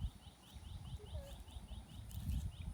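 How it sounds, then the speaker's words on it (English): Small birds chirp outdoors during an evening walk, a few faint, repeated tweets over low rustling and background noise, with no talking. "Do you hear those lovely birds singing?"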